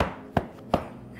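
Two sharp, heavy thumps about a third of a second apart, feet stamped on a floor in imitation of a peeved man, close and distinct against a quiet room.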